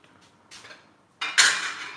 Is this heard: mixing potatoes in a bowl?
yes